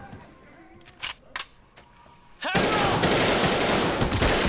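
Gunfire in a military TV drama scene set in a hangar: a few sharp isolated shots, then a sudden sustained loud barrage of rapid fire that continues to the end.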